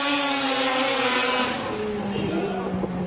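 A drift car at Okuibuki 2018 qualifying screams through its run, the engine held high and revving hard with tire squeal, loud and continuous while a commentator talks over it.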